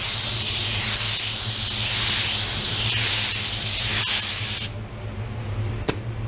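A paint spray gun hisses in a steady, close stream while blending paint in a cramped space, the spray pulsing slightly in strength before the trigger is released and it cuts off, leaving a quiet room and a small click.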